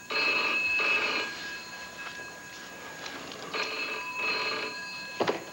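An old-style telephone bell rings in two loud bursts with a pause between, indoors, followed by a brief clatter as the receiver is picked up.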